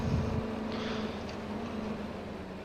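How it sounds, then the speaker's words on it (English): A tractor engine in the Farming Simulator 25 video game runs with a steady low drone and hum, a brief louder rumble at the start, and carries on without speech. "This tractor does sound pretty nice."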